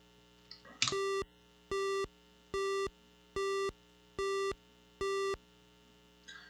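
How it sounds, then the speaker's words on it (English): A telephone busy signal from the DOS game Fred's Backyard sounds as six evenly spaced, steady electronic tone pulses, loud and clean, with a short click before them. "That number seems to be engaged."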